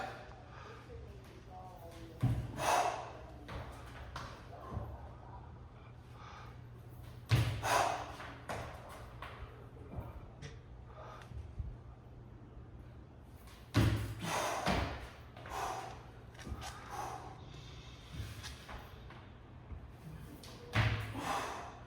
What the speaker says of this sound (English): So we're going to go for those single leg jumps.